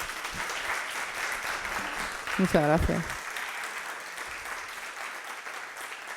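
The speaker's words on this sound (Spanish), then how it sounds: "Le damos un aplauso." Audience applause at a gathering, a steady broadband patter that swells briefly in the middle while a voice speaks a few words over it, then tapers off.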